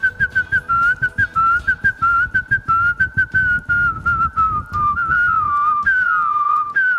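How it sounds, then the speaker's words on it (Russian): A single person whistles the fast Sabre Dance melody in a live radio studio, clear and close, with rapid staccato notes and short gaps between phrases, and no talking over it. "Я даже могу про танец саблями просвистеть"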